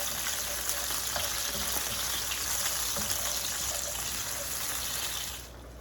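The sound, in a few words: cherry tomatoes sizzling in a frying pan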